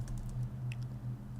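Quick, light key clicks from a computer keyboard as a domain name is typed, a short irregular burst of soft tapping over a low background hum, fairly quiet and close.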